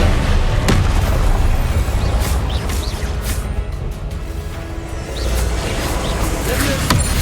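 Confringo fire spell explosions from the Hogwarts Legacy video game, several booming blasts and bursts layered over constant battle noise and game ambience, with a voice speaking during the action.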